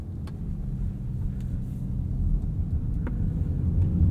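A 2023 Audi S6 with four-wheel steering pulls smoothly away from a standstill, a low steady engine and road rumble heard from inside the cabin, gradually swelling, with faint clicks and no speech.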